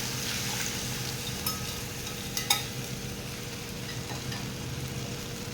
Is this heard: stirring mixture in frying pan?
yes